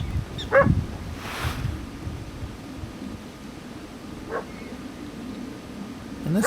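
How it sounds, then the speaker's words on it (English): Barking carries from a distance across open prairie near a prairie dog town in Theodore Roosevelt National Park, a few faint, spaced barks under steady wind noise. "Some barking."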